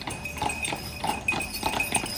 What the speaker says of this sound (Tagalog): Ang kabayo.